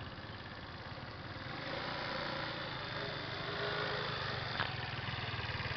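A small Chinese scooter engine runs as the rider circles close by, a steady buzzing drone that swells slightly after the first couple of seconds and holds, with no talk over it.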